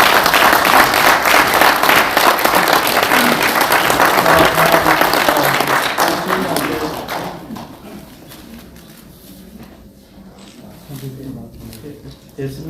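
Sustained applause from an audience at an awards presentation during an association's general assembly, loud and steady for several seconds, then dying away into quieter room noise and scattered sounds.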